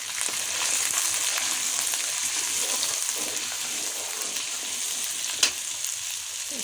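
Egg fried rice ingredients with black pepper frying in a hot pan, a steady, even sizzle that holds at the same level throughout, with one brief sharper crackle near the end.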